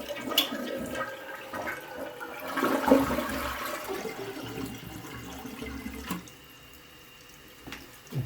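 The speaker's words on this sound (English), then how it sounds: "I'm going to turn this to the left, flush it." A household toilet, under repair with its tank open, flushes loudly with a rushing surge of water, then settles into a steadier, quieter hiss of the tank and bowl refilling.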